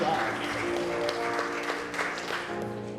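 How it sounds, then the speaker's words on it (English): Steady audience applause in a church celebrating its ministry anniversary, a continuous wash of clapping mixed with crowd voices, fairly even in level throughout. "applause"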